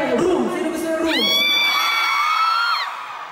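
Fans at a concert tour event in Davao scream loudly together, a dense high-pitched cheer that swells and then holds steady before trailing off near the end.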